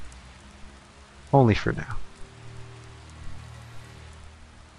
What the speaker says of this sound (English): Some interesting and very nice rain and cloud effects.